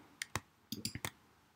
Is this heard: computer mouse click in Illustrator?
yes